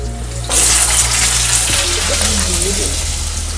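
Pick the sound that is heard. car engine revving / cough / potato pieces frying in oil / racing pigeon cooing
potato pieces frying in oil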